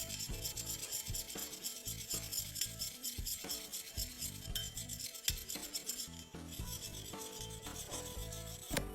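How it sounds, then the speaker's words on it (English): A screwdriver tip scratched against the cylinder wall of a CFMOTO 550 motorcycle engine, giving a close, continuous run of harsh rasping scrapes with a sharper grating accent midway and no voices. "Let's give it a few scratches."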